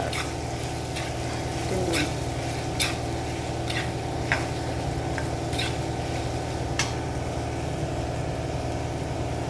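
Jackfruit seed fry being stirred with masala powder in a pan, a steady sizzle running throughout with scattered sharp clicks of the spoon against the pan, close and fairly loud, no voices.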